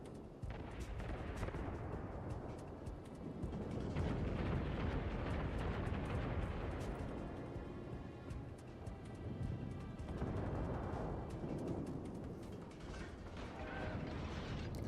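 Naval guns booming in World of Warships as a Kaiser battleship fires armor-piercing rounds, a dense, continuous roar of heavy blasts and rumbling detonations that stays loud throughout.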